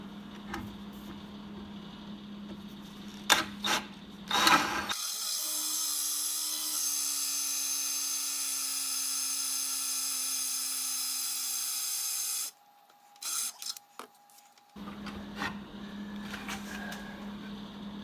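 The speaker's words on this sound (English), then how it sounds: "after cutting the dowels with the plug cutter" A CMT plug cutter bores wooden dowels from rough sawn lumber in a loud, steady high-pitched whine lasting several seconds, then cuts off, with short bursts of drilling and clatter before and after.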